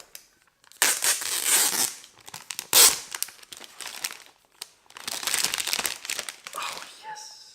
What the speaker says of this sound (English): Let's unwrap this.